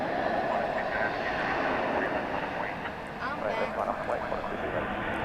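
Aircraft engine roar at DFW Airport at night, a broad steady rumble that dips briefly and then resumes, heard with a faint background murmur.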